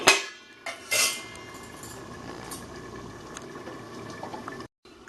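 A Bengali-style crab curry with chilli powder bubbles in a covered pot, a soft steady simmer that runs throughout. It opens with a few sharp clinks of a lid or utensil against the pot.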